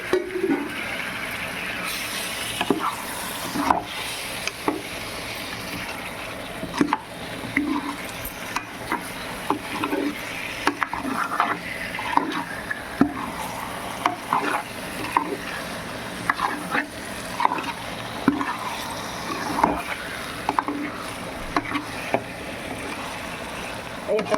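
Prawns fry in a pan of browned masala while being stirred, with a soft continuous sizzle and irregular scraping and clinking of a spoon, close and moderately quiet.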